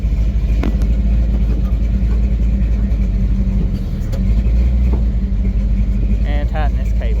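Tow truck engine running steadily while the bed is lowered during recovery of a Ford Maverick, a continuous loud low rumble with slight variation and a few faint clanks.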